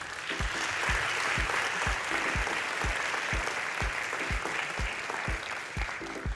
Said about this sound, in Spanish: Le damos un nuevo aplauso a María Cristina